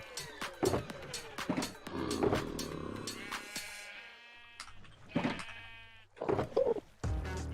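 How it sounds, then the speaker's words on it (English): Sheep on a blocky video-game farm bleat loudly and repeatedly, several overlapping calls arriving in irregular bursts close by, with short quiet gaps between them. "Sheep are so noisy."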